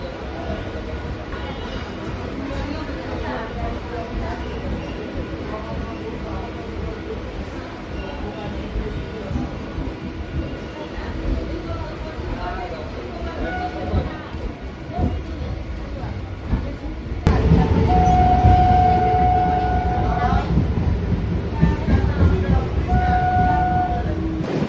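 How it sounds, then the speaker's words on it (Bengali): A train pulls out of the station with a steady rumble of carriages and wheels. A whistle tone sounds in bursts near the end as the noise grows louder. "ফাইনালি কিন্তু আমাদের ট্রেনটা ছাড়লো"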